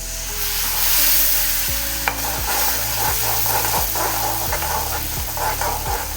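Hot oil with spices sizzles continuously, then a sudden hiss flares as water is poured in for a bitter gourd curry, followed by a sustained bubbling sizzle.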